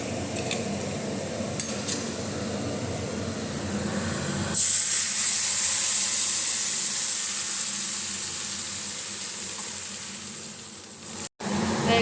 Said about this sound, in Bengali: মশলাটা ভেজে জল দিয়ে দিয়েছি